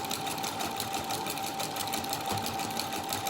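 A sewing machine runs steadily and continuously at close range, its even mechanical whir filling the moment with no pauses and no talk.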